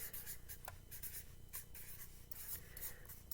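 A pen or marker writes on a paper chart, producing soft scratchy strokes and brief squeaks in short bursts over a faint room hush, close and fairly quiet.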